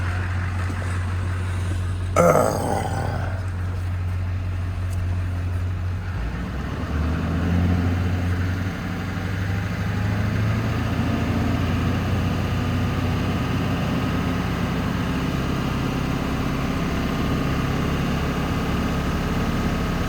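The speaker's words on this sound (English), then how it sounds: "Rev this engine up, get the RPMs going so we can get a good charge going here." Freightliner Cascadia truck, jump started after its batteries went dead, with a low diesel idle that rises into a higher, heavier steady rev and holds near 2,000 RPM, loud and close, after a brief clunk early on.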